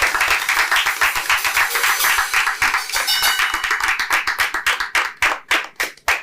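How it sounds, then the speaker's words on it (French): A crowd claps in dense, continuous applause that thins toward the end into a few separate, louder claps nearby. "on va commencer par applaudir"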